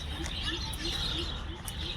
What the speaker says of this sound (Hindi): चिड़ियों की चहकने की आवाज़ आ रही है यहाँ पर